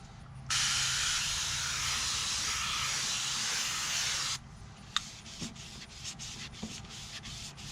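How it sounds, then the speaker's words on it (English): Sandpaper at 1000 grit is rubbed over the oxidized plastic headlight lens of a Nissan Titan, giving a steady, close, even scratching rasp for about four seconds. Quieter handling noises and a few light taps follow. "So the next step is to sand."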